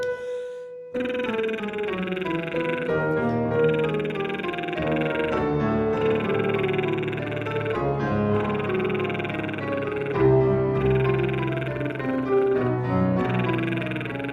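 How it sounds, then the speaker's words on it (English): Lips buzzing together during a choir warm-up exercise, a sustained, steady, loud vibrating drone that holds for about thirteen seconds after a brief quiet start, with a dense layered tone and no talking over it. "move your air. Your lips are going to buzz. They're going to tingle."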